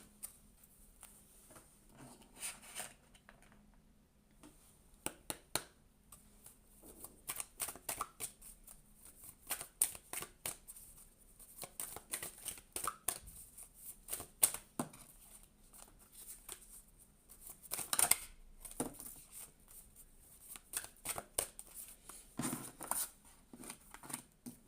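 A deck of cards being shuffled by hand, a series of quick, crisp riffling bursts and soft taps repeating in irregular clusters, close and quiet, with no talking.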